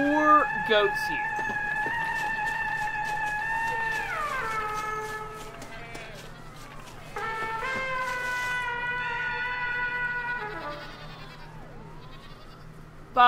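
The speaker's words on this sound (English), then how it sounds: "There are four goats here." Goats in Red Dead Redemption Undead Nightmare bleat in drawn-out, wavering cries, several calls in a row that slide downward, over a steady low game background hum.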